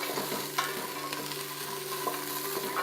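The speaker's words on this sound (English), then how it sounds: "we are going to add in 1 onion, 2 carrots, and 2 celery sticks that we've already chopped up, and just get this going" Chopped onion, carrots and celery sauté in olive oil in a soup pot, giving a steady, even sizzle close by with a few soft stirring clicks and no talking.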